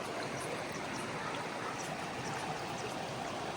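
A river flowing along a Continental Divide Trail hike into Colorado: a steady, fairly close rush and babble of running water that stays even from start to finish, with no talking.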